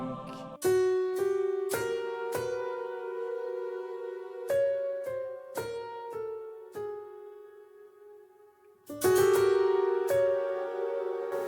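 Muted felt piano, with felt placed between the strings, playing sparse single notes and chords with a soft, slightly metallic ring, gentle phrases with pauses between them.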